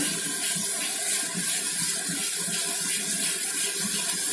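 Water is poured into bhetki fish curry masala in a pan, making a steady, close splashing pour that continues for a few seconds without talk.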